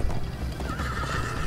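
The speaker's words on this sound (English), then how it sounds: "First time on a horse here." A horse gallops in Minecraft: Story Mode, with steady clip-clopping hooves and a whinny over a dense, continuous game soundscape.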